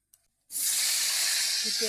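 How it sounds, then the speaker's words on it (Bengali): Chopped tomato drops into hot oil in a wok, setting off a sudden loud hissing sizzle after a brief quiet moment, then holding steady and close. "ওই তেলে একটু টমেটো দিয়ে দিলাম"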